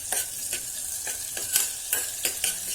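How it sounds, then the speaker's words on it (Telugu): Butter sizzling in a kadai as sweet corn soup gets started, a steady close hiss punctuated by regular spatula strokes roughly every half second, with no speech. "ముందుగా ఒక ప్యాన్లో, ఒక కడాయిలో మీరు కొంచెం బటర్ వేసుకోండి."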